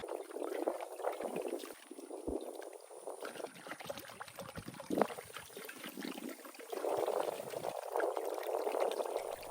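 Vinegar pours steadily into a 10-gallon cast iron pot during a restoration, a close, continuous splashing trickle with a few louder sloshes, and a fuller gush near the end.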